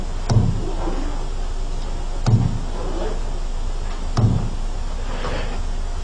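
Simulated recording of neural firing from the locus coeruleus, a brainstem nucleus, heard as sparse sharp clicks over a steady hiss, about three distinct pops spaced roughly two seconds apart, with no talking.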